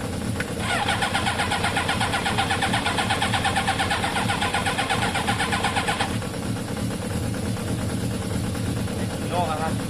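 A Kawasaki ZL600 motorcycle engine cranks with a fast, buzzing starter whir for several seconds, then stops and leaves a rough, lower engine or idle sound, with people talking throughout.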